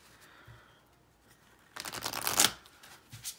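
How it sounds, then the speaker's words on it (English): A deck of illustrated herbiary cards being corner shuffled, a quiet lead-in followed by a dense burst of riffling card flicks that swells to a sharp peak, then trails off into soft handling sounds. "that corner shuffle does much better"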